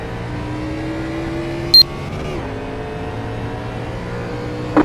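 ANZCAR race cars accelerating away at the green flag, a steady engine drone with a rising pitch sweep midway and brief sharp bursts, heard at moderate distance.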